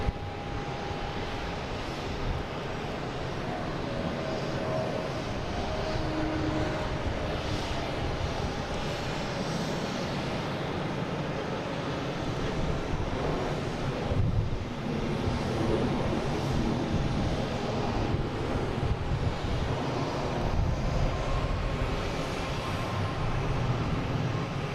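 Delta flight 318, an airliner bound for LAX at Boston Logan, rumbles with a continuous low jet-engine roar that swells slightly midway and holds steady with no talk over it.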